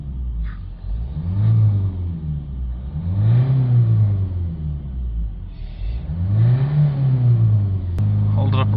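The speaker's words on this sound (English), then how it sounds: "so we're going to give it a few revs now" Toyota Yaris 1.4 D4D diesel engine with a soot-clogged particulate filter, revved repeatedly in the workshop; close, loud rises and falls in three slow swells, ending on a steady higher hum.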